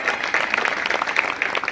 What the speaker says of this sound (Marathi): एकदा यांच्यासाठी टाळी वाजवा